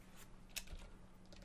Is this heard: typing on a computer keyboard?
yes